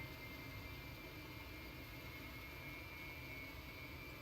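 Jet engines of an Airbus A300 in the X-Plane 11 flight simulator spool up as a steady, loud, broadband roar with a thin high whine running through it, continuous and unvarying throughout.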